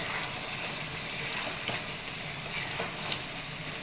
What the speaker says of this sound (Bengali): আমি ভেজে রাখা আলুগুলো চিকেনের সাথে দিয়ে দিচ্ছি, কারণ এগুলো একটু কষিয়ে নেব ভালো করে আলুগুলো